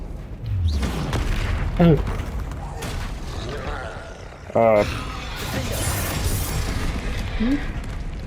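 Confringo fire spell explosions in the video game Hogwarts Legacy, with several loud booming bursts and crackling blasts spread through the clip while a voice speaks over them.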